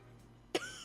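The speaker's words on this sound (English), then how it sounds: "Becca starts coughing heavily. Her hand hastily goes to her mouth to stifle the sounds" A woman coughing heavily in a horror visual novel game, a single sharp burst of close coughs following near silence, trailing off briefly.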